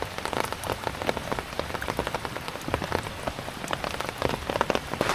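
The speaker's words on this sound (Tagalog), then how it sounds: "Kapon pa nagulan-ulan." Rain pours steadily onto a hard surface outdoors, a dense continuous patter with scattered sharper drops and splashes, close and fairly loud, with no voices over it.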